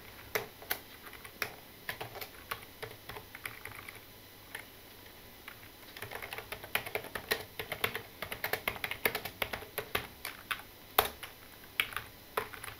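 Typing text on a computer keyboard during a JavaScript coding session, with irregular bursts of close, crisp key clicks that start sparse and grow into a rapid, steady run of keystrokes.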